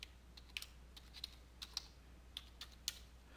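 Typing a username and password on a computer keyboard while setting up a Windows Server user: a string of light, irregular key clicks, close and fairly quiet, with no voices.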